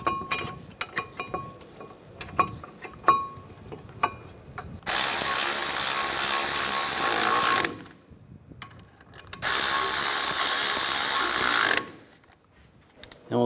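A ratchet working on front brake caliper bracket bolts of a 2007-2013 Mini Cooper: scattered sharp clicks up close, then two long, loud stretches of steady, grinding ratcheting with a short pause between.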